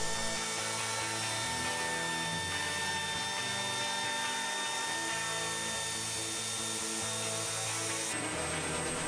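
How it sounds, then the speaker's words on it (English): A handheld router with a round-over bit rounding the edges of a pallet-wood briefcase, a loud, continuous high motor whine with the grinding of wood as the bit runs along the edge, ending abruptly. "I put a round over bit in my router and round over the edges on the top and the bottom of the case."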